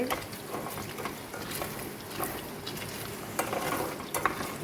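Homemade ghee simmers in a pan as butter solids separate, giving a steady soft bubbling and sizzling crackle with occasional louder pops, close and continuous.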